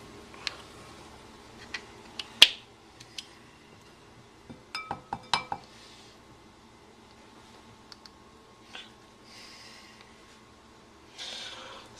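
Light clinks of a teaspoon against glass while measuring honey, scattered taps with a quick cluster of bright rattling hits midway, close and fairly quiet with no talking.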